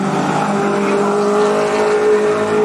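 Race cars roaring together at Cottage Grove Speedway as the green flag drops out of the fourth turn, a steady, dense engine drone with a sustained pitched whine running through the whole stretch.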